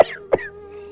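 Two rough, hoarse coughs from an elderly man, close and loud, followed by a faint lingering tone.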